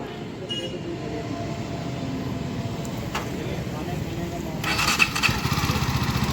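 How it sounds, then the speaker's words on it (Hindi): Jawa 42 2.1 motorcycle, which has an engine power loss and mapping fault, idling with a steady low rumbling beat that rises slightly toward the end, while someone talks over it. "तो ये है बाइक की प्यारी सी साउंड, जो आपको बहुत ज़्यादा अच्छी लगेगी।"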